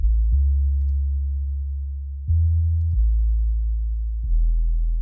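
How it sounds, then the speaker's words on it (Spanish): Synth bass sequence from the 3XOSI synth in FL Studio with a short decay envelope and 25% distortion, deep sustained notes changing pitch in a few steady steps, loud and alone. "El bajo que hace esta secuencia. También es del 3XOSI."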